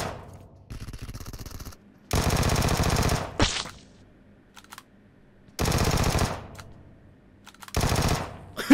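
In PUBG Mobile, another player opens up with automatic gunfire in several long, loud bursts of rapid shots, separated by short quiet gaps and a few isolated shots, close and with no talking over them.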